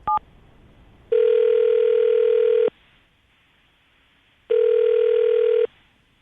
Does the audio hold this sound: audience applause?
no